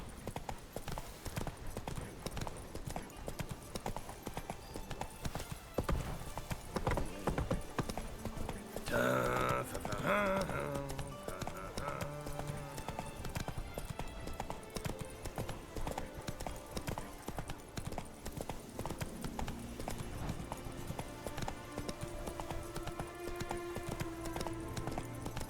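Hooves of Roach, a horse in The Witcher 3: Blood and Wine, clip-clop steadily and close throughout, over a constant bed of game ambience and music, with a brief whinny-like burst midway.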